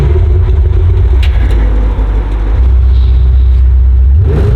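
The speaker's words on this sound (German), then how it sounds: "Okay, ich starte mal kurz für ersten Soundcheck," An ABT-tuned Audi RS6 engine runs loud and close, a deep steady rumble that swells as the engine revs, with a brief dip partway through and a higher-pitched rise near the end.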